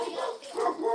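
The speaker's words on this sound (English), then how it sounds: "Oh, your dogs are barking, Bishop." Dogs bark in the background during an online conversation, a short burst of yapping and whimpering barks lasting about a second, moderately loud.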